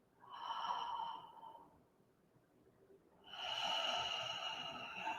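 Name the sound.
one last deep breath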